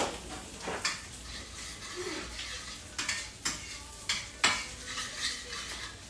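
Butter is mixed in a saucepan, and a utensil clacks and scrapes against the metal in a run of sharp, repeated strokes over a faint sizzle, fairly close and quiet, with no voices heard.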